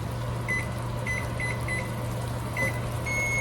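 A kitchen timer set for baking blueberry muffins beeps in a series of short, evenly spaced electronic bleeps, then holds a longer steady tone at the end, over a low appliance hum.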